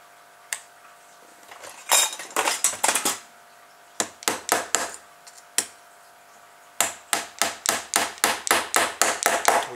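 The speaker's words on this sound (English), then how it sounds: "So we just tap this on with a small hammer." A small hammer taps a plastic propeller onto its shaft on a homemade plastic-bottle car, giving bursts of quick, sharp, close clicks with short pauses between groups.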